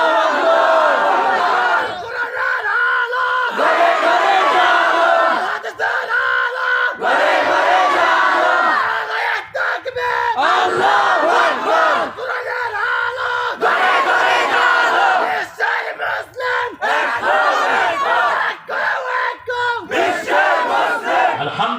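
A large gathered crowd at an outdoor religious sermon gathering chants takbir in loud, repeated unison bursts, each swelling roar separated by short pauses, with a lead voice calling between the responses.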